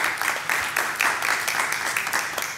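Audience applause at a city council meeting during public comment, a burst of clapping from a roomful of people, moderately loud and close, running steadily with some voices underneath.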